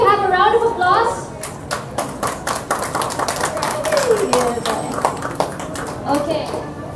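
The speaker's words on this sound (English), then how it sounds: "can we have a round of applause?" Applause breaks out among a crowd at the opening and ribbon-cutting of a property expo, with steady claps mixed with chatter and voices throughout.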